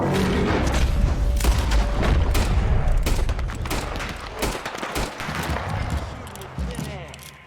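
Gunfire in the Western game Red Dead Redemption 2, a dense loud fusillade of rapid shots and booms that thins into scattered bangs, with voices shouting over it.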